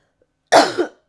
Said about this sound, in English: I gotta cough a lot.